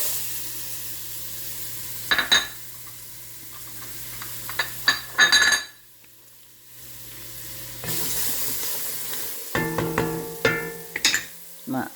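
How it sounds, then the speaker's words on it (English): Chopped celery tossed into a browned gumbo roux, bursts of sizzling and stirring scrapes between quieter stretches, a short silent gap midway, with someone talking over parts of it. "now that my roux has browned very much, I'm gonna add my celery"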